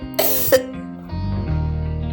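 A child in a cartoon coughs twice in sharp, close bursts. A low, steady musical tone follows after the coughs.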